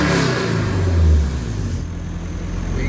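A Honda H22 engine idles right after a timing belt job, a steady, loud, close mechanical drone with a slight swell partway through.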